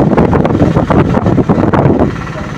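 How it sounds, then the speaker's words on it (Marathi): Cool wind after rain buffets the microphone while riding along a road, a loud, continuous gusty roar that swells and dips throughout, with no talking. "कसा गार गार वारा लागतोय बघा."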